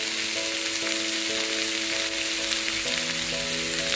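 Green chilli, ginger and garlic frying in hot oil give a dense, even sizzle and crackle throughout, with a steady tonal hum underneath and no speech.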